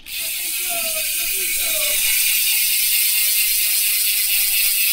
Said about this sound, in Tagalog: yan yung tunog ng Speed 1 Torpedo MTB hubs kapag naka-freewheel